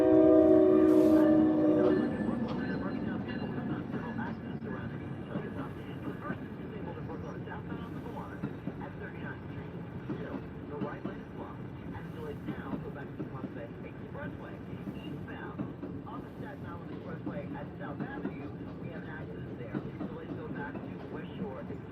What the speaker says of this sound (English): Train going to New York.